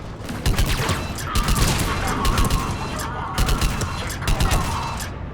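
Gunfire in Mass Effect 3 during a battle on Omega, with rapid bursts of shots rattling over a dense, noisy combat mix and occasional louder volleys.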